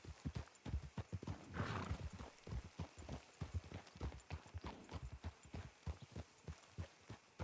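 Saddled horses in the video game WildRP, hooves clip-clopping in a steady, close rhythm with a brief whinny partway through, set against a faint background of ambient noise.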